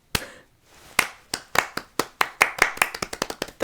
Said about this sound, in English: That was a representation of my applause for John M. Chu. It starts out slow and sarcastic and then becomes very genuine.